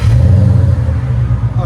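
A 2013 Ford Mustang GT with a 5.0L V8, six-speed manual, X-pipe and Flowmaster 40 Series exhaust gives a short, loud, deep rev, a thick close-up burble lasting under two seconds.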